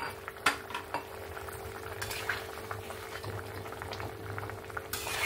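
Fish curry gravy bubbling in a pan on a gas stove after fried sea fish (para/pomfret-type) pieces are added, a steady low simmer with occasional utensil clinks and light stirring, no talking.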